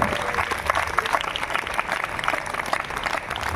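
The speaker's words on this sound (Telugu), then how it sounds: "గట్టిగా చప్పట్లు కొట్టి దేవుని నామాన్ని మహిమపరచాలి." A church congregation clapping loudly at a repentance festival gathering, brisk many-handed applause filling the space in a steady stream with some voices mixed in.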